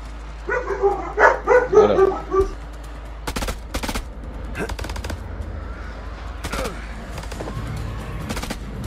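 Sharp bursts of gunfire in The Dark Pictures video game crack out in quick clusters after a brief stretch of talking, with short gaps between volleys.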